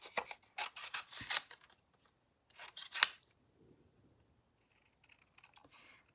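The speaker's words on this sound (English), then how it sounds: "we're going to do a little bit of fussy cutting here" Scissors snip through a stamped paper image as a floral card is fussy cut, giving bursts of close, crisp cuts, then a pause, then a few fainter snips.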